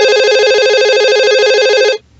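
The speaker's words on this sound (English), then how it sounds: "His boss, Ralph Vasquez, answered the phone." A landline telephone rings steadily in an office setting for about two seconds, a loud electronic warble with a fast trilling pulse, then cuts off abruptly into quiet.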